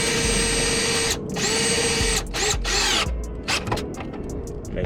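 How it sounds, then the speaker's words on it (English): A close, loud power drill whirs in bursts, stopping and restarting several times as it drives a 5/16 socket while fitting a cold air intake on a Dodge Challenger, with no speech. "I'll go ahead and drill that on down"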